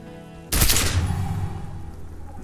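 A single loud gunshot cracks from a pistol in the detective role-playing game Disco Elysium, a sudden sharp blast after a quiet moment that rings out into a fading, rumbling tail.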